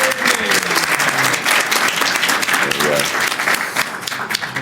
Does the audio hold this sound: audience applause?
yes